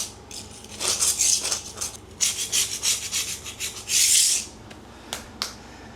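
Softened floor adhesive is scraped off a floor in a room of an old abandoned bank after a remover has soaked in, giving a series of close, rough, rasping scrapes in quick strokes with one long heavy scrape near the end.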